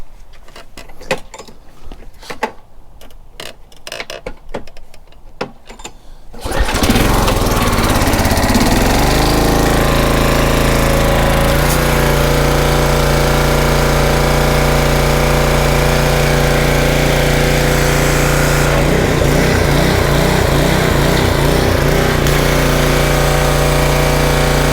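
A gas-engine pressure washer pulled to life after a few quiet seconds, then running loud and steady on choke, with a constant mechanical drone that shifts slightly in pitch near the end.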